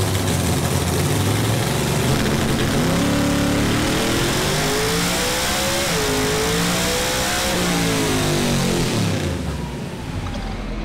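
Small-block Fox Body Mustang V8, set up for nitrous but running naturally aspirated on a FuelTech dyno, roars through a loud full-throttle pull with rising and falling engine pitch before the revs drop off near the end.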